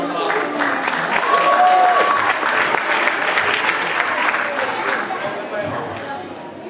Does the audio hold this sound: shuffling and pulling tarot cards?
no